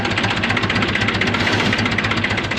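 A cold tractor engine idles on a cold morning, sooty and still warming up, with a steady, loud, close chugging rumble and an even knocking pulse throughout.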